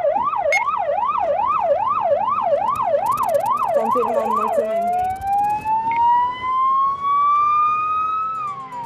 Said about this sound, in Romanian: Ambulanțele își fac loc cu greu între mulțimea de mașini care blochează șoselele Bucureștiului.